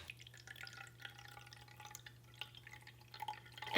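Distilled water trickles faintly into the mop tank of a Shellbot SL60 robot vacuum, a soft, close dribble over a low steady hum.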